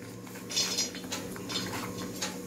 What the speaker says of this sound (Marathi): आणि आता मी काजू तळते आहे